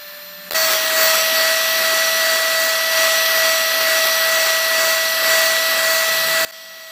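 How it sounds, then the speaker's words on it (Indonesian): Electric hand mixer whipping cake batter for a palm sugar sponge cake at high speed, a steady, loud whining hum that switches on abruptly, holds constant for about six seconds, then cuts off. "Lalu mixer adonan menggunakan kecepatan tinggi hingga mengembang dan berwarna putih."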